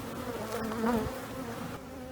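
Steady, dense buzzing of many honey bees in a hive close by, a continuous droning hum with slight swells in loudness and no talking.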